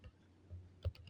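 A few faint, quick keystrokes on a computer keyboard while a word is typed into an Excel spreadsheet cell, short clicks spaced unevenly in a quiet room.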